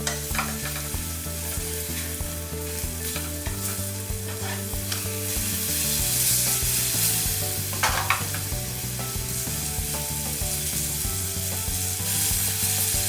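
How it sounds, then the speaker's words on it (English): Mackerel (saba) skin searing in a frying pan, a steady close sizzle and crackle that swells louder partway through, with background music running underneath the whole time. "with the saba, and then we can sear the skin first"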